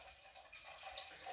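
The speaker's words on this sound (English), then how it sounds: "I'm just going to fill that up with some filtered water" Filtered water runs steadily into a container, a soft, continuous, faint pour with no talking over it.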